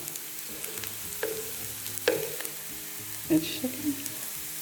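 Kefta minced meat frying with browned onions in a pan for a savory puff-pastry tart filling, a steady close sizzle with occasional stirring scrapes and clinks, and a brief spoken phrase.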